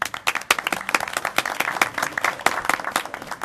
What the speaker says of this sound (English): So why don't we give them a hand of applause?